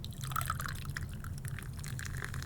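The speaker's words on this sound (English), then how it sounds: "A little splash here. And a little soda water." Canned soda water is poured into a whiskey highball glass, making a faint, steady trickle with light fizzing and small drips close by.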